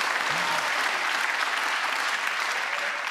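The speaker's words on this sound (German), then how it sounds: "Das ist ein andauernder Applaus." Sustained applause from a late-night talk show studio audience welcoming a guest, a thick, even wash of clapping that continues unbroken for the whole stretch at moderate loudness.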